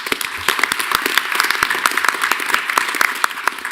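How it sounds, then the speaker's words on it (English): A room at a university Board of Regents meeting breaks into applause for a staff member being introduced. Close, crisp clapping from a modest group runs steadily for a few seconds. "Let's give Christy a round of applause."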